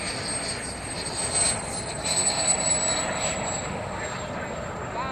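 Model F-100 jet aircraft on landing approach at an outdoor jet meet in Kentucky, a steady distant turbine whine and roar with a thin high tone, swelling slightly mid-way, under a commentator's talk.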